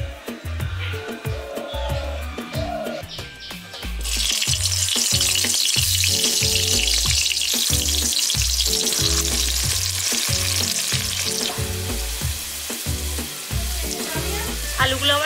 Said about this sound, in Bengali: আমি এবার আলুগুলো একটা একটা করে সব আলুগুলো ভেজে নেব।